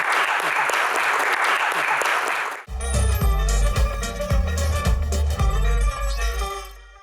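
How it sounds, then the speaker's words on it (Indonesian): A TV talk-show studio audience claps steadily for a few seconds, then the applause cuts off abruptly and loud music with a heavy beat takes over. "Tepuk tangan untuk Bang Fadli"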